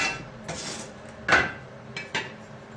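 Cut-out stainless steel circle from a stovepipe hole being handled in a workshop, a few close metallic clanks and one bright ringing knock over quiet background, no talk.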